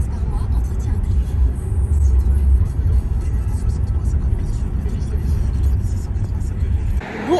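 Low engine rumble and road noise from inside an Uber car on the move, steady and close throughout, with a brief change near the end.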